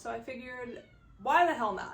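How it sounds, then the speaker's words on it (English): A small kitten meows twice indoors behind a person speaking: one drawn-out mew near the start, then a louder, rising cry toward the end, both partly mixed with the talk. "if you can hear a little cat in the background,"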